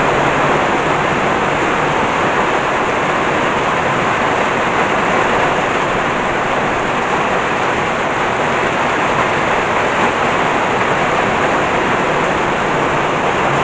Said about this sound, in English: the sky just opened up completely here. Wow. Absolutely pouring out.